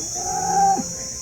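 A single long, low moo from one HF or Jersey dairy cow at a cattle market in Baramati, steady for most of a second, over constant background noise.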